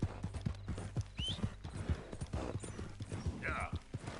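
Horse hooves clip-clopping in Red Dead Redemption 2, a steady rhythmic trot of close, distinct hoof strikes, with a brief whinny-like squeal and faint voice sounds mixed in.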